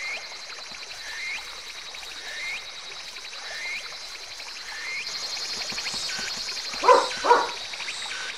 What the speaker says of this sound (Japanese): ねえ君、ヤシコ姉ちゃんちのワンちゃんだよね。